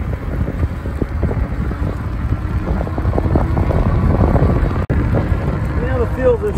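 Strong wind buffets the microphone during a cold spring ride on an Ecotric fat tire ebike, making a loud, constant low roar that lasts the whole time, broken by one sharp dropout near the end.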